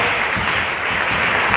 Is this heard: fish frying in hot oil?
no